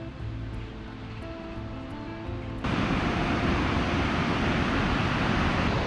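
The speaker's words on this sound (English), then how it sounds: "I'm literally parked right next to this very high river" A high river's broadband rushing water roars steadily and loudly once it comes in beside a city car park, a dense continuous wash with no breaks, after a quieter stretch with faint tones.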